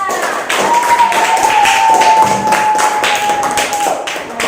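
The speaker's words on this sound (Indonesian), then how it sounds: "tepuk tangan untuk teman-temannya" Students in a classroom clap together in a loud, close burst of rhythmic claps while a sustained whistle-like tone rings through much of it.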